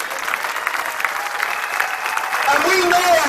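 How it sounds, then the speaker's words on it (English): Crowd applause at a London street demonstration, a steady dense clapping that swells louder toward the end, with a voice or whistle-like tones rising over it in the last second. "Give a round of applause."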